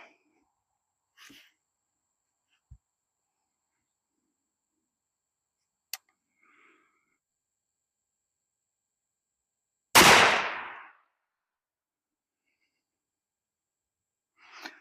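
A single loud, close gunshot from a .444 Marlin CVA Scout V2 single-shot rifle cracks out once, with quiet handling clicks and near-silence before it.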